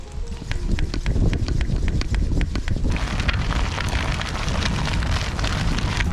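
Rain falling on an autumn ride on a Cervelo Aspero gravel bike, steady patter with scattered drop hits and buffeting wind noise, continuous and fairly loud throughout.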